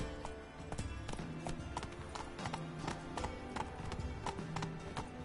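Roach the horse galloping in The Witcher video game, a quick run of rhythmic hoof clip-clops repeating steadily over a low game soundscape, with no talking.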